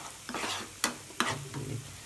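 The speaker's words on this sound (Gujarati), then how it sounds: "આ લસણ શેકાઈ ગયું છે" Garlic roasting in a pan for homemade Schezwan chutney, a close, steady sizzle with stirring scrapes and two sharp clinks of a utensil against the pan.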